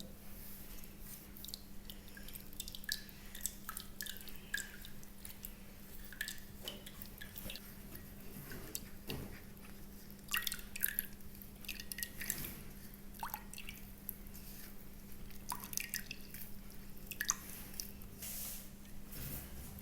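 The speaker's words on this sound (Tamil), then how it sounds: "தேங்காயும் கருவேப்பிலையும் நல்லா ஒன்று அரைச்சிட்டு இதை வந்து ஃபில்ட்ரு பண்ணிக்கலாம்" A ground coconut and curry leaf mixture drips and squishes through a filter, with soft, irregular wet drops and small splats repeating close by over a low steady hum.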